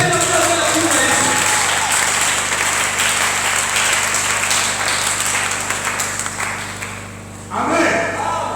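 A church congregation at a Sunday service applauds and cheers for Jesus, a loud sustained wash of clapping and voices that fades slightly before swelling again near the end.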